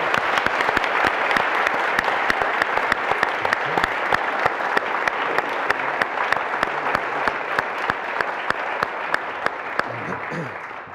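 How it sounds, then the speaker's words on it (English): An audience at a negotiation panel session gives a steady round of applause, dense clapping from many hands that continues evenly throughout and fades slightly at the end. "I would really like to have a round of applause for Secretary Baker."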